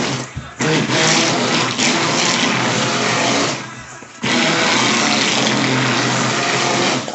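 Electric mixer whirring loudly and steadily while blending oatmeal and turmeric soap batter, with two brief pauses in the motor's constant buzzing drone, close and dominant.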